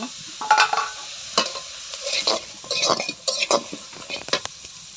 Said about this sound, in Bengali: কড়াই বসিয়ে দিছি রান্নার জন্য। পেঁয়াজ কাঁচামরিচ দিয়ে দিব।